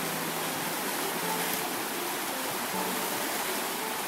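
Steady rushing water fills the whole stretch, a broadband wash of a stream tumbling over rocks, close and continuous with no voices.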